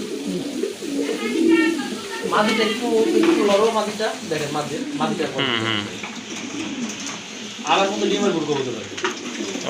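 Pigeons coo repeatedly at a busy pigeon market, their throaty calls close and overlapping while people talk nearby.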